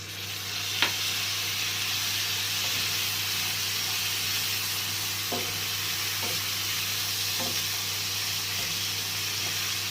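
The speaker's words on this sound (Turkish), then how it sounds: "Pirinçlerim de kavruldu ve içerisine domates suyumu ekliyorum." Tomato juice poured over rice toasting in a pan for a Balkan mişoriz dish fills the air with a steady, loud sizzle and hiss, broken now and then by faint stirring scrapes and light taps.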